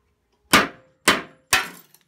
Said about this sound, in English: I'm gonna use this hammer. It's a nice framing hammer. And I'm gonna find a center piece of this glass and hopefully break this just right